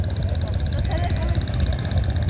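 A trawler boat engine running on a river, a steady low chugging drone with a rhythmic pulse, continuous and fairly close.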